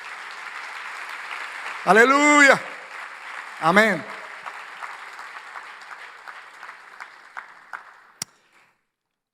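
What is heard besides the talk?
congregation applauding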